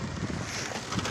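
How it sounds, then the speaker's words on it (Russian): Wind buffeting the microphone while cycling in the mountains of Vietnam, a steady low rumble and rush, with no other sound standing out. "Только ветер в ушах"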